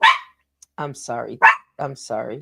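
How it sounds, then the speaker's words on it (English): A dog barks close by in a couple of short, sharp bursts, mixed in among a man's apologetic speech. "That's my dog."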